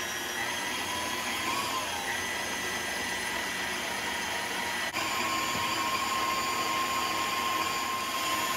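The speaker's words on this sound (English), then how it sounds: "we're going to mix this together until it's well blended on medium speed" Electric mixer running at medium speed blending sweet potato dinner roll dough, a steady high-pitched motor whine that holds constant with a slight shift midway, and no talk.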